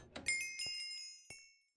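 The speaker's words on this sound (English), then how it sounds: "Open the door." A wooden door in Minecraft swings open with a short knocking thunk, followed by a couple of quieter blocky clicks and taps spread over the next second and a half, with no talking.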